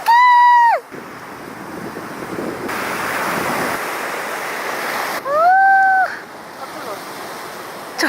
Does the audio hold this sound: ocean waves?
yes